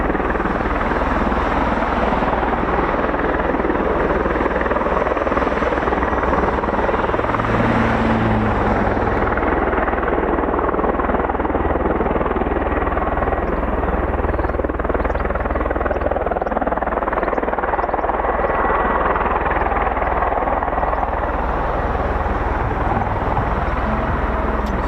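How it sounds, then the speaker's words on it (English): A CV-22 Osprey tiltrotor runs its engines on the ground at an air show at RAF Mildenhall, giving a loud, continuous rotor and turbine roar that stays steady throughout, with no voices. "So this is our CV-22 Osprey, just flexing."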